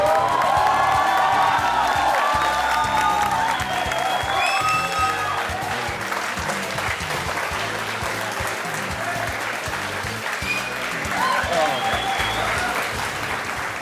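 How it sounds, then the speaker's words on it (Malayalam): Sustained applause from a television studio audience at a Malayalam chat show as a film star is welcomed, loud and dense, with some cheering, continuing steadily throughout. "നിങ്ങളുടെ ഈ കയ്യടികൾ തുടർന്നുകൊണ്ടേയിരിക്കുക"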